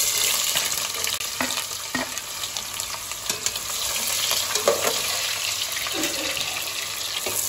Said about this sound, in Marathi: मस्त आता आपण इथं ऑनियन तेलामध्ये टाकले, त्याला छान असं लाल होऊ द्यायचं